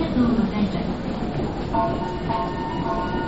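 A train pulls away from a platform with a steady rumbling roar and faint squeal, while a muffled announcement voice plays over the station noise.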